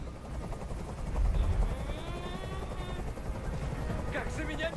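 Helicopter in the video game Detroit: Become Human, a steady low rotor rumble that holds throughout, mixed with pulsing sweeps and harsher mechanical bursts near the end.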